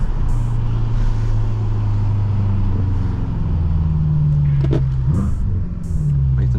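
A BMW M6 engine revs under throttle on a rainy night, a deep steady rumble rising in pitch as it accelerates, loud and close from inside the car, then easing back off.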